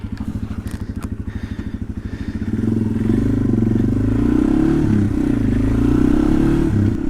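Yamaha TW200 motorcycle starting a ride, a loud, evenly pulsing single-cylinder idle that rises into a steady revving drone as it pulls away and accelerates, close to the microphone, with no talking.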